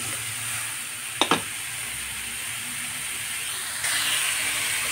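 Fish cooking with bottle gourd in a hot pan, giving a steady, close sizzling hiss, with a couple of brief clinks and the frying swelling louder near the end.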